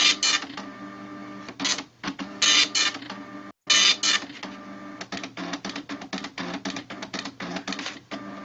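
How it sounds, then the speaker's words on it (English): An old dot matrix printer prints in loud bursts of rapid buzzing, rattling passes separated by short pauses, heard up close and alone. "it's what we called a dot matrix printer"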